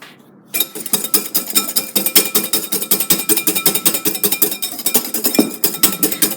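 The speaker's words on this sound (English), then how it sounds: "So we're just adding a small amount of sugar at a time and continuing to whisk it." Egg whites being whisked with sugar in a bowl for lemon meringue pie: rapid, steady metallic clicking of a whisk against the bowl, loud and close, continuing without a break after a brief quiet start.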